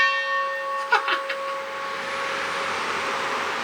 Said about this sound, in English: I just got to ring the train bell.